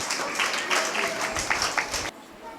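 An audience at a children's Christmas celebration claps to welcome a speaker, a steady wash of applause in a hall that cuts off abruptly near the end.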